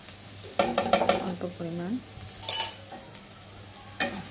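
Onion fries in a pan with garlic and ginger paste, giving a soft sizzle and a few stirring clinks. Someone speaks briefly over the cooking.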